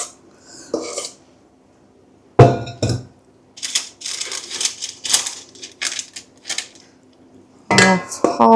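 Thick lemon curd cake batter scraped into a loaf tin lined with a baking liner, giving a few separate bursts of clinking and scraping with quiet gaps between, close and fairly loud, with no talking.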